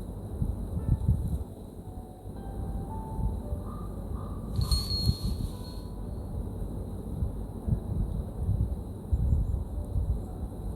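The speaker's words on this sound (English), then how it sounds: "There's a little bird over there hiding its snacks." A crow-like bird caws in an outdoor garden scene of the video game Love and Deepspace, a brief call standing out over a steady wind-like ambient bed.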